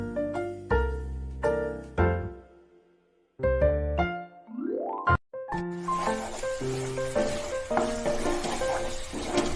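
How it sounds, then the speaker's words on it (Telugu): Tomato paste fries in oil for a paneer curry, a hissing sizzle that rises in the second half beneath plucked musical notes which dominate the opening. "టమాటా పేస్ట్ వేసుకుని ఆయిల్ తేరే వరకు ఫ్రై చేసుకోవాలి"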